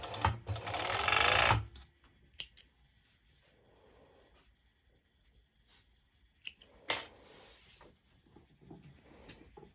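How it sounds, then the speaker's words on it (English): A serger (overlock machine) runs a burst of stitching along a fabric seam for about a second and a half, loud and close, then falls silent, leaving a few clicks and soft handling noises. "I'm going ahead and going to serge it again."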